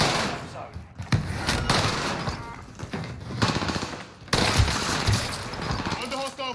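Enemy gunfire in a shooter video game: rapid machine-gun bursts and single shots crackling close by, with sharp impacts and thuds, as someone talks excitedly over the shooting.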